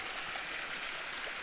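River water rushing through a creek at a prospecting spot, heard as a steady, close broadband wash with no breaks and no voices.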